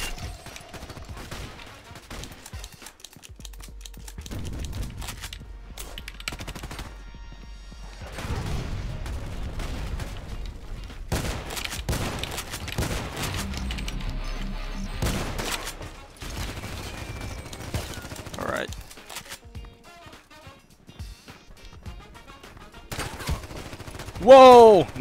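Gunfire from the online shooter Contract Wars, with a Franchi SPAS-12 shotgun and an enemy Saiga, comes as scattered bursts and single shots at moderate level, interspersed with quieter gaps.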